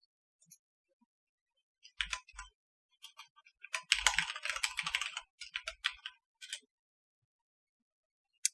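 A username and password are typed on a computer keyboard, with short bursts of close, crisp key clicks separated by pauses and a denser run of rapid keystrokes in the middle, in an otherwise quiet room.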